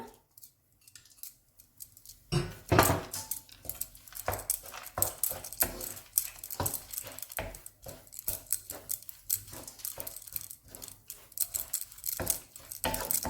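Cashews and raisins are stirred into a pan of rava kesari, giving irregular light clicks and scraping taps of a utensil against the pan, close and fairly quiet, with a near-silent start.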